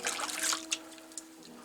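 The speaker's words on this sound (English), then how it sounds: "that's enough of me washing my hands for one video" Running sink water pours and trickles over hands being washed and rubbed, a soft continuous splash with small splattering bursts, close and moderately quiet, no talk.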